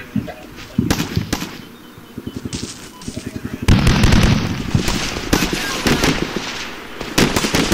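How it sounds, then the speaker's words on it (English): Rapid bursts of mounted machine gun fire from the Combat Mission: Shock Force video game, loud repeated rattling volleys with sharp gunshots and explosive cracks, some bursts fast and rhythmic, others dense and overlapping. "That mounted machine gun over there just killed one of the guys that was running across."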